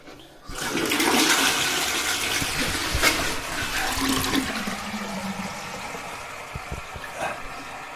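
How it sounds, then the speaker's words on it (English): A newly installed cloakroom toilet flushes with a sudden loud rush of water, then a long gurgling drain and refill hiss that slowly tapers off, close by and with no talking. "We'll let that fill back up and then we'll give it a full flush."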